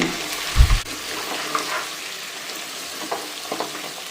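Chopped mint and coriander fry in a pan for a mutton paya curry, giving a soft steady sizzle, one heavy thump near the start and a few light scraping stirs later.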